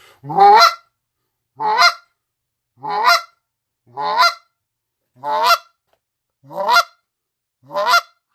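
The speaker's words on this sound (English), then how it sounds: "So here would be a stronger, higher sounding cluck." Seven strong, evenly spaced clucks on a large goose call, loud and close, each a short rising honk with silence between.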